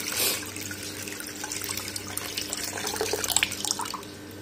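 Tap water runs steadily into a sink in a home kitchen while tea with milk is being made, a continuous close splashing flow with a few brighter drips near the end.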